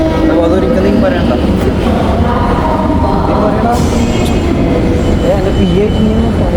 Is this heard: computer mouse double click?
no